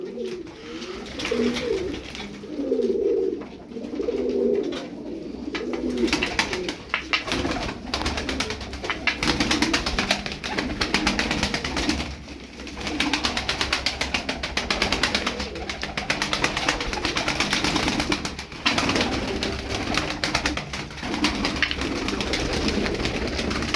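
Tumbler pigeons cooing in soft, repeated low warbles, close by, with rustling and fluttering sounds in the background.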